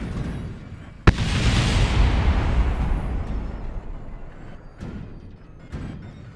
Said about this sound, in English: Alright, now to watch that explode.